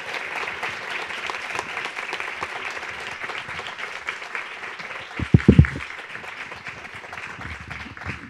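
Audience applause greeting keynote speaker Christina Crosby at a feminist theory workshop: a steady wash of clapping across the hall, with a few louder nearby claps midway.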